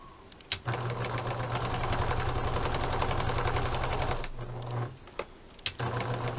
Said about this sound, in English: I think that'll be fine, and then I'll sew around again. I'm sewing the heart shape.